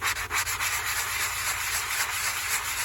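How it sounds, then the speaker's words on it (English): Close, steady scratchy rubbing of sandpaper worked by hand over a wooden surface to strip off mycelium fungus in a workshop in Alaska, quick strokes at the start settling into continuous sanding. "the idea is you gotta really sand it down"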